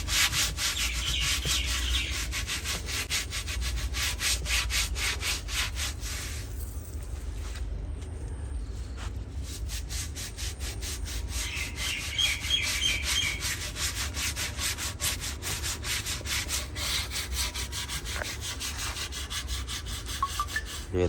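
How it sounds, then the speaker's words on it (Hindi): Hands rub steadily across the surface of a clay tandoor, making repeated dry scraping strokes in a fairly even rhythm, close and moderately quiet, with a brief pause partway through. "इसको ऐसे रगड़ेंगे"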